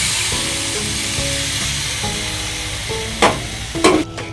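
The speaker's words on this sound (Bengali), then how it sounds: "এবার দিয়ে দেব সেদ্ধ করে রাখা মোচাটা। আমি জল সমেতই দিয়ে দেব।" Boiled banana flower poured with its water into oil and well-fried spices for a prawn dish, giving a steady frying sizzle with a few louder splashing bursts near the end, no voices.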